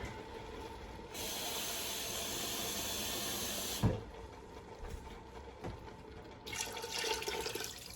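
Water runs steadily with a bright hiss for a few seconds, stops with a clunk, then a quieter rush of pouring into a pot of meat resumes near the end.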